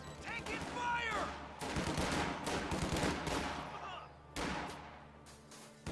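Sustained video-game battle gunfire, with rapid rifle and machine-gun bursts rattling almost nonstop. Background shouts and voices run under the shooting, and a fresh loud volley breaks out near the end.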